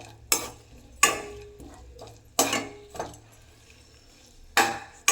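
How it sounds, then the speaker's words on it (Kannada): Chana dal and onion stirred in a pan with curry leaves for an okra palya tempering: a few sharp, close spatula scrapes and clanks against the metal at uneven intervals, with no talking. "ಸ್ವಲ್ಪ ಕಡಲೆಬೇಳೆ, ಸ್ವಲ್ಪ ಈರುಳ್ಳಿ, ಇಷ್ಟನ್ನು ಹಾಕಿಬಿಟ್ಟು ಕ್ಲೀನಾಗಿ ಬಾಡಿಸ್ಕೋಬೇಕು."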